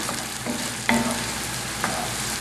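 Chopped onions sizzle steadily in hot oil over medium-high heat in a pan, a continuous close frying hiss with two brief sharper crackles or stirring knocks.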